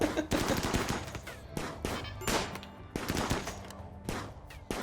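Rapid automated turret gunfire in the RimWorld video game, dense repeated bursts of shots running continuously and loudly throughout with no talking.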